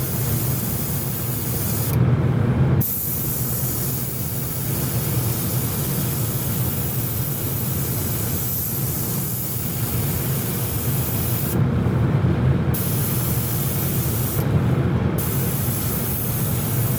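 Spray can lightly misting paint onto small model ship parts, a long, steady close hiss broken by a few short pauses between bursts.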